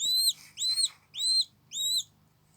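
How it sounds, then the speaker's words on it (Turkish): A young owl chick, found in a garden and being hand-fed meat in the early morning, gives four loud, close, rising chirping calls in an even rhythm, each separated by a short pause. "Sabah erkenden uyandı küçük yavru baykuşum."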